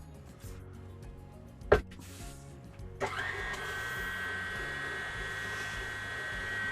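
An electric hand mixer whirs through Italian cream cake batter, starting with a sharp click and then holding a steady, fairly close motor drone to the end.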